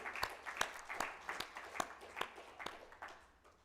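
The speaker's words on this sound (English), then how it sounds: "please give a huge round of applause" Applause at a birthday celebration program for a devotional team, faint and somewhat distant, with a handful of audible claps standing out in a loose, slowly thinning rhythm.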